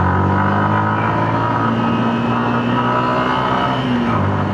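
A 2026 Suzuki Gixxer SF 155 motorcycle engine accelerating, a loud steady drone with a slowly rising pitch, close and continuous, with no talking.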